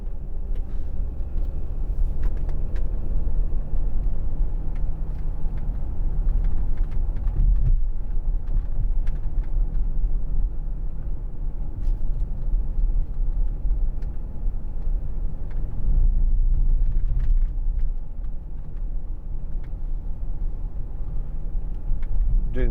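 Inside a 2010 Audi Q7 3.0 TDI S line Tiptronic cruising at 30 mph: a steady low rumble of road and engine noise fills the cabin throughout, with no talking.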